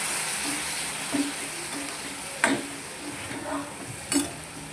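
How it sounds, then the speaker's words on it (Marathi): Masala for a rajma curry sizzles steadily in a pan while it is stirred, with a few sharp scraping clinks of the spoon standing out above the constant frying hiss. "अजून थोड्या वेळ भाजून देऊ मसाला."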